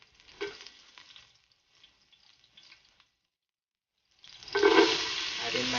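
Chopped garlic hits a tablespoon of oil in a cooking pot, breaking into a loud, steady sizzle after a few quiet seconds of faint handling sounds, close and continuous to the end.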